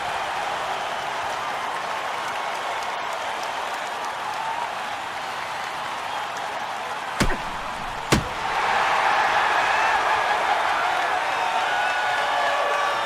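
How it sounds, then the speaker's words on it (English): A hockey arena crowd in the NHL 09 video game roars as a steady, broad wash of noise, swelling louder near the end, broken by two sharp knocks like boards being hit. "This crowd is pumped. Listen to the noise."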